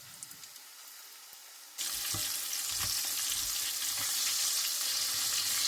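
Chicken pieces drop into very hot oil, and a sudden loud, steady sizzle and bubbling takes over after a quieter stretch of faint clicks, continuing close and strong with small pops.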